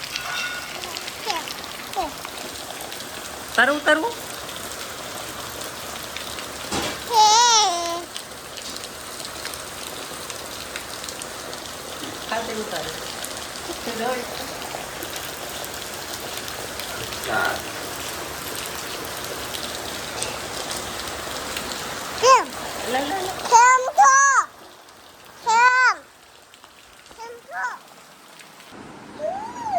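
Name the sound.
rain falling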